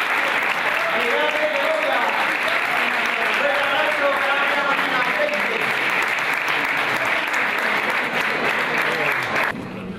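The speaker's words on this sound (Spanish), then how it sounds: "Un aplauso, David y Pañuelo." Audience applauding at a national cocktail-making competition in Segovia, a dense, steady wash of clapping that holds strongly for the full stretch before tapering slightly at the very end.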